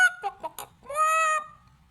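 A hen clucks in a few quick, sharp bursts, then lets out one longer squawking call before falling quiet, close and clear with no other sound.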